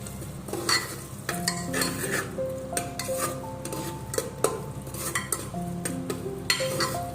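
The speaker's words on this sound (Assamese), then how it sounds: "এই মছলাখিনি দি পেলাই মই ভালদৰে লৰাই দিম" Spices being stirred in a pot for egg biryani, a spoon scraping and clinking against the metal in repeated strokes over a low sizzle, close and without talk.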